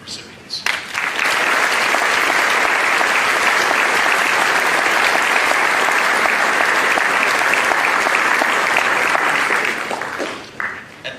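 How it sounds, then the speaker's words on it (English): Sustained, dense applause from a large graduation audience honoring scholarship recipients at the Homer-Center ceremony, rising sharply, holding steady and loud for about ten seconds, then tapering off at the end. "Please join me in a round of applause for the scholarship recipients."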